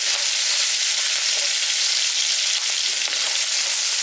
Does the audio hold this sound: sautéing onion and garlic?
yes